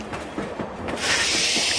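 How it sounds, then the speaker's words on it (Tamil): A passenger train running from Thiruvarur toward Karaikudi pulls into the small Mavur station, wheels rumbling and clattering before a loud, steady hiss of air brakes or released steam takes over close by. "திருவாரூர்லேருந்து மாவூர் அப்படின்னு ஒரு ஸ்டேஷனுக்கு வந்திருக்கோம். ட்ரெயின் நிற்கிது."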